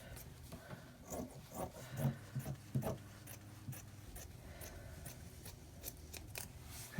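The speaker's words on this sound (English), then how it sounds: "we'll cut it straight across" Scissors snip straight across craft material for a Dollar Tree Christmas mailbox, a series of close crisp cuts grouped in short bursts, then quieter rustling as the blades move along.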